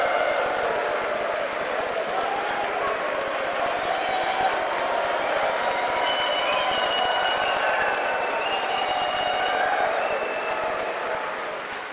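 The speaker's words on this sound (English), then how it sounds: "Thank you for that very generous applause" A large crowd in the U.S. House chamber claps and cheers in a sustained, dense wash of applause lasting several seconds before tapering slightly at the end.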